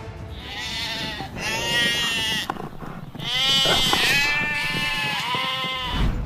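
Sheep bleat repeatedly, several wavering cries close by, some overlapping, over a continuous outdoor background hiss.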